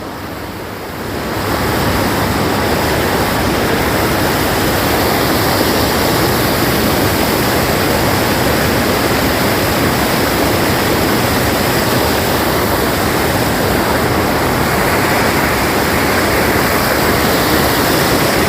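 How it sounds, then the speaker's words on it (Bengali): Heavy torrent of water pouring through the Bhabodah sluice gate, a loud, continuous broadband roar that swells in after a brief quiet start and then holds steady with no voices. "প্রচুর পরিমাণে পানি নিঃসরণ হচ্ছে"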